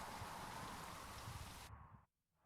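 Steady rain in a flash video game, a dense hiss of raindrops that cuts off abruptly near the end, leaving brief near-silence.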